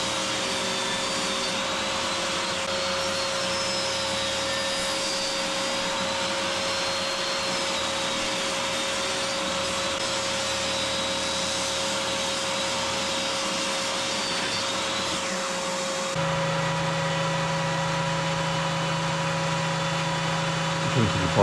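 Table saw with a crosscut sled trims the ends of glued-up cherry, maple and walnut stock, giving a loud, steady motor whine that holds throughout and deepens in tone partway through as the blade meets the wood.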